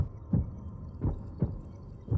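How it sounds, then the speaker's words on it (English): A slow, deep heartbeat from the Breath of the Wild 2 trailer, four heavy low thumps at an even pace over a faint hum, with no voices. "And then we have what I assume is Ganondorf's heartbeat."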